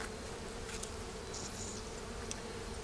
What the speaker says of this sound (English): Sometimes when you hear that roar, that definitely means they don't have a queen.